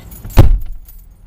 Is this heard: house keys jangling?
yes